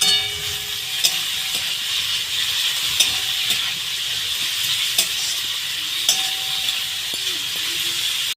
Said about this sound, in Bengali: সেটা কড়াইতে দিয়ে দিল। আর একসাথে মা এটাকে হালকা করে ভেজে নেবে